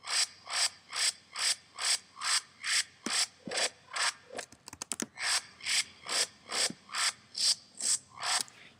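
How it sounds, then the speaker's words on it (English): Synth patch built in NI Massive with a band reject filter, pulsing in a steady rhythmic train of raspy, ratchet-like bursts with a brief glitchy stutter in the middle, loud and alone. "all the cool effects you get in each different run of it is all down to the band reject"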